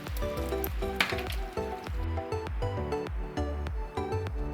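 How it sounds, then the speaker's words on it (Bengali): Fried coconut, cashews and raisins go into a pot of bhog khichuri as it cooks, giving a soft sizzle with stirring and clinks of a utensil against the pot, close by and with no talking. "নারকেল, কাজু, কিশমিশ ভাজাটা এবার দিয়ে দেব।"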